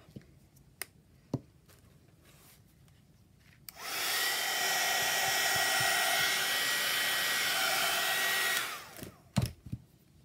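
A heat tool or dryer blows over a freshly worked art journal page, switching on with a loud steady whir that lasts about five seconds before cutting off, with small taps and clicks before and after.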